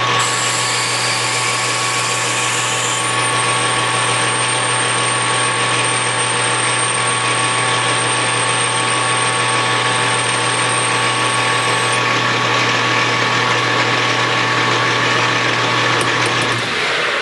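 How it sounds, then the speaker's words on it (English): A drill bores into a hard brass mandrel for a Stirling engine build, its steady motor whine running close and continuous for most of the stretch before cutting off near the end. "The only thing is, this is hard brass though, so it should drill pretty good."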